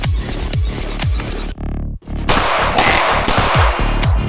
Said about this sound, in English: Let's just do 3 shots top right.